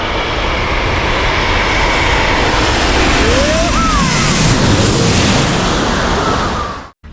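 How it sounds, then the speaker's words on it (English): An airplane comes in low to land at Taipei, its engine roar loud, broad and sustained for several seconds overhead before cutting off abruptly. "I'm running now to get to where the planes come into land."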